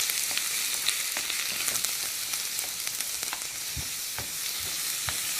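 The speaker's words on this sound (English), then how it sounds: "Nice sizzle." Steady, close sizzling of stir-fry meat in a hot skillet, with crackles and pops scattered throughout and no voices.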